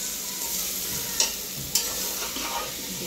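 Steady sizzling from a hot pan as half-cooked potatoes are added and stirred, plus two sharp clinks of a utensil against the pan.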